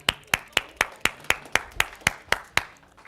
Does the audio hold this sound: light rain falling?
no